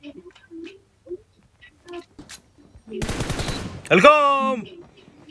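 After some quiet scattered noises, a rapid burst of automatic gunfire in PUBG Mobile rattles loudly, followed by a sharp tonal electronic game sound.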